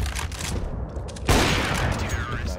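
Gunfire in the video game CS:GO, a burst of close shots over a busy game soundscape, with one sharp louder report standing out midway.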